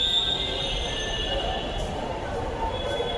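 A metro rail train sounds at a Dhaka metro station, a steady mechanical hum with high whining tones and faint wheel squeal, under a murmur of background voices.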